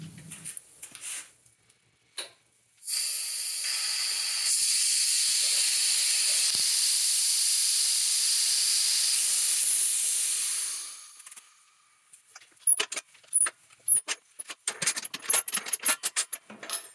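A pressure pot with resin-soaked yew wood inside gives a steady, loud hiss lasting about eight seconds, then fades to quiet ticks and light clicking.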